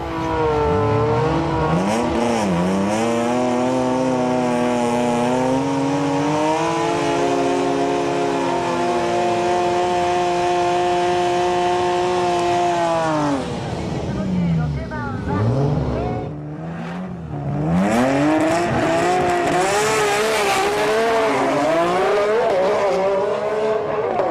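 A Nissan GT-R with an HKS 2.8 litre kit and twin HKS 3240 turbos makes a drag run. The engine screams loud and sustained, pitch rising through each gear with brief drops at the shifts, and a voice talks over it.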